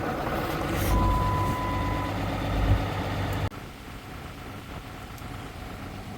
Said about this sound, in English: I need a big heavy truck to pull this thing through the snow